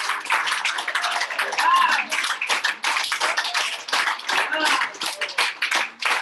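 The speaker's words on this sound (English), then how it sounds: "We would like to give you a big round of applause." Clapping from an audience at a kick-off meeting in Uganda for new 2020 distributors, uneven and surging in bursts, with voices and cheers mixed through it.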